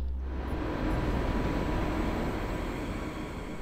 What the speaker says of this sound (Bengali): ট্রেনটি চলা শুরু করে।